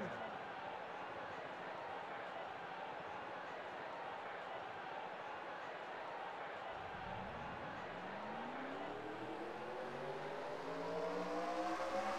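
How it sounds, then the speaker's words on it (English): Stock-car engines firing up in a Pocono 400 racing video game, a crowd-like wash giving way after about seven seconds to rising, layered engine whines from many cars revving together, growing louder toward the end. "Drivers, start your engines!"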